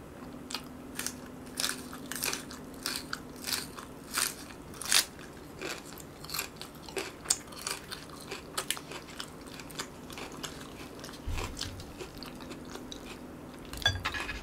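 Raw green onion eaten alongside spicy fire noodles and a potato side dish, bitten and chewed with loud, wet, close crunches that repeat steadily in irregular bursts, with no voice.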